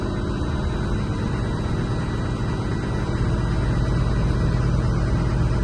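Class B truck engine held at a steady raised idle near 1,000 RPM during an air brake pressure test, a continuous loud low rumble with constant broadband hiss and no talk.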